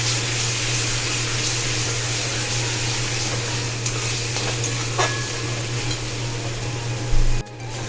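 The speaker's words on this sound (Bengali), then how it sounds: "আমি একটু জল দিলাম একবার" Water poured into a pan of fried spices, cumin powder among them, with oil already separating for a Bengali prawn malai curry. A steady sizzling, bubbling wash holds throughout with no talk, ending in a short louder splash near the close.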